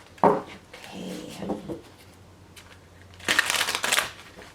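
Tarot cards are shuffled in two crisp riffling bursts, one brief at the start and a longer, louder one near the end, with soft handling noises between.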